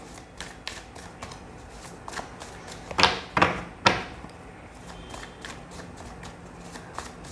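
A deck of tarot cards being shuffled, heard as a steady run of soft riffling flicks. A few louder, swishing bursts come in the middle and stand out against the quiet room.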